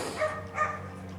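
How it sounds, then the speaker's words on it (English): A dog barks twice at a distance, short sharp yelps spaced apart over a low steady hum. "There's a dog over there that is getting on my last nerve."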